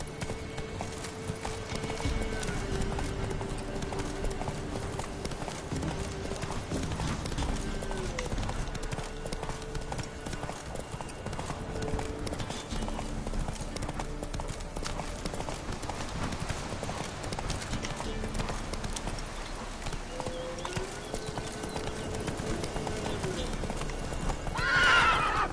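Roach the horse gallops in The Witcher 3: Wild Hunt, with steady rhythmic hoofbeats and an occasional whinny under game music, while voices talk intermittently over the hooves.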